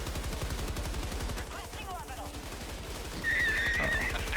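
A heavy machine gun fires in a rapid, steady rhythm inside a video game, close and loud, with a brief lull midway before the firing resumes even louder alongside a high whistling tone.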